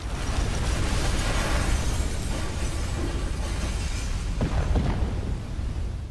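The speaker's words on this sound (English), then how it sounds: "Bit anticlimactic, that explosion." An explosion in the video game Watch Dogs gives a sustained, loud rumbling roar that fills several seconds with dense noise, with a couple of sharper cracks partway through.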